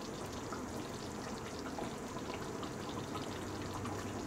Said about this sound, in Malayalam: കുറച്ച് വെളിച്ചെണ്ണയും ഒഴിക്കാം.